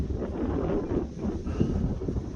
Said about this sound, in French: Il y a vraiment un vent de malade.